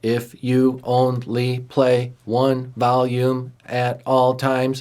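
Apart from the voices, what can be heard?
None of the usual background noises is heard.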